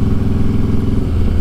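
Motorcycle engine idling steadily and close by, a dense low rumble that holds throughout with no talk over it.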